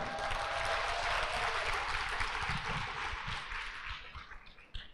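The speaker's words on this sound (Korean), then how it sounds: "이분의 꿈을 위해서 한번 박수 쳐주시겠습니까?" A lecture audience claps together, a dense, continuous patter of many hands that swells early and then gradually thins and fades, with no voices over it.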